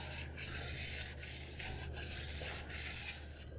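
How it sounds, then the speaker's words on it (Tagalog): Hand sanding with thin, fine sandpaper, a steady back-and-forth rubbing rasp repeated in even strokes about every second, close and moderately quiet with no talking. "Tapos kumuha ng liha na manipis."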